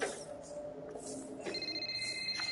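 A telephone rings in the F1 23 Braking Point story mode, an electronic ring with a clear tonal trill that comes in partway through, moderately loud against faint background sound.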